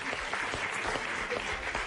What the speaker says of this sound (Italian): facciamogli un applauso, grazie a Mario e Pippo Santanastasi